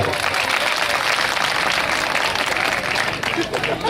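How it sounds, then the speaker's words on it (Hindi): Loud, continuous applause from an audience at an outdoor religious gathering, thick and unbroken clapping close to the microphone, with some crowd voices blended in. "नाम से जोरदार ताली बजाओ आप लोग।"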